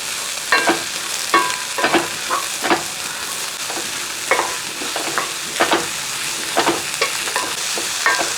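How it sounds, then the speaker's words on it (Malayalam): Egg and spinach frying in a pan, stirred with a utensil, giving a steady sizzle under regular scraping strokes, close and clear with no voices. "ചെറുതായിട്ടൊന്ന് ചിക്കി കൊടുത്തതിന് ശേഷം ചീരയും കൂടെ അങ്ങോട്ട് ഇട്ട് കൊടുക്കും ഇതോടെ ഒന്ന് ഇളക്കി"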